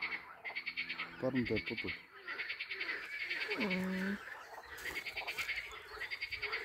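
Frogs at a lake in Stara Zagora croak in a dense, continuous chorus of rapid rhythmic pulses that run throughout, while a person briefly speaks over them.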